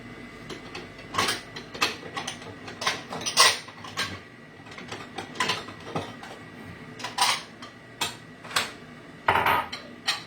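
A bowl taken out and handled in a kitchen, with a series of irregular clinks, clatters and rattles of dishes and utensils being moved about, close by with no talking.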